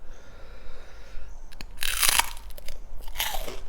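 Crunchy Thai pork rinds eaten with spicy seafood som tam, close-up loud crackling bites and chewing in two bursts, with no talk over them.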